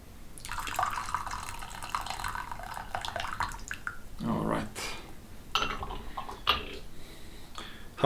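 Hot water poured over twenty-year-old Bingdao gushu pu'er tea for a rinse, a soft trickling pour with drips, partly under people talking nearby.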